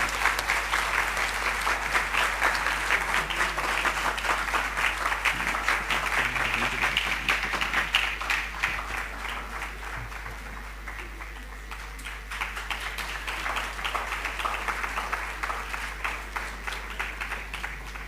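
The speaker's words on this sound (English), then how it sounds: "Can we have a huge round of applause, please?" Sustained audience applause fills a lecture hall after a guest speaker is presented at a talk on public diplomacy and soft power, steady and dense for its whole length with no voices over it.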